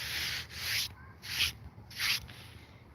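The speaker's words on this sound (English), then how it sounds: "So that's the kiln brick. I need to trim some of this." A kiln brick is trimmed by rasping, with four rhythmic gritty scraping strokes close by, each a short abrasive rasp followed by a brief pause.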